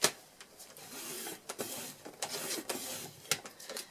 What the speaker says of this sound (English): bring your trimmer back in, and you want to score it at 5 inches going down.